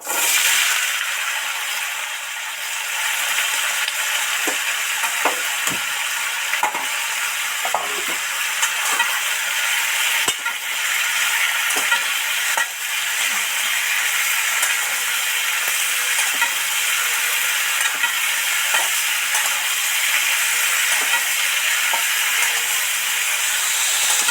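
Potatoes go into hot oil already crackling with panch phoron, dried red chilli and bay leaf for a home-cooked aloo posto, giving a steady, loud sizzle and hiss that runs unbroken with occasional stirring clicks and no talk.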